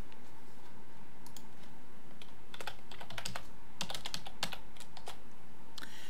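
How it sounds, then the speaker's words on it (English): A password is typed on a computer keyboard, a quick uneven run of light key clicks that grows busier in the middle, close by with no talking. "we're going to go ahead and type in our password."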